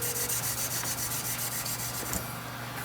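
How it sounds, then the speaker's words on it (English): Steady abrasive scratching against a brass instrument, a continuous rough rubbing texture with a slight shift near the end, no voices. "It's not sanding. It's scratching is what it's doing."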